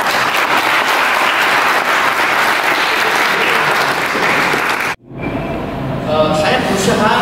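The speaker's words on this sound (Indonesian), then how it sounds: "tepukan aplaus buat Pak Bambang" Loud, dense applause from a large audience at a welding training event held on a campus fills the room without a break, then cuts off abruptly and gives way to quieter room sound.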